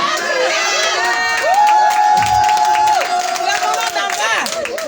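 Women in an audience at a public address shout and cheer loudly, a dense continuous crowd roar with raised voices rising and falling over the whole stretch.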